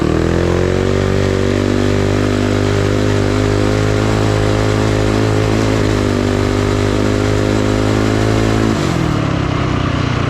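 Coleman B200RSV mini bike engine runs loud and steady at a close distance, holding a buzzing idle-to-mid throttle drone that drops in pitch near the end as the revs fall, with no talking over it.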